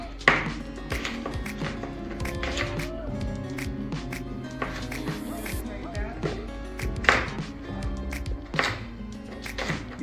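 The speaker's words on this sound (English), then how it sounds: "You just rough chop them" A knife rough-chops vegetables repeatedly on a cutting board in uneven, brisk strokes, close up, with background music and some talking underneath.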